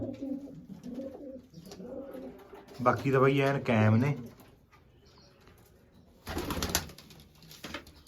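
Soft low pigeon coos run through the first few seconds, with a voice speaking loudly midway and a brief burst of noise near the end.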